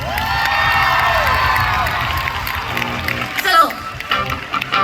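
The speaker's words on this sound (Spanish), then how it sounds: "vamos a darle un gran aplauso a Rubens" A concert crowd at a music festival in Culleredo, A Coruña, Spain, cheering and whooping loudly in a sustained roar of many voices, fading slightly toward the end as scattered shouts break through.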